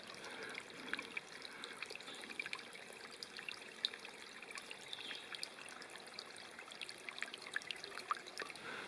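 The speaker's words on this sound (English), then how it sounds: "Nice little spring." A small mountain spring along a hiking trail trickles softly and steadily, faint water dribbling with light splashy ticks over a quiet outdoor background, with no voices.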